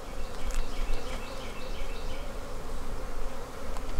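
Honey bees swarm around an open beehive during a frame inspection, a dense, steady buzz of many wings close by that holds evenly throughout with no talking.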